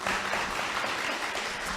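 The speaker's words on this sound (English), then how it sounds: "Would you give them a warm round of applause for coming and joining us tonight?" An audience applauds at an evening gathering in a plaza, steady dense clapping filling the whole short stretch at moderate loudness with no voices over it.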